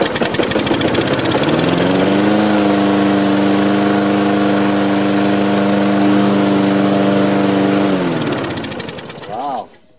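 A Murray lawn mower with a Briggs & Stratton engine that leaks oil and fuel sputters, catches and runs at a loud, steady idle for several seconds before dying down near the end.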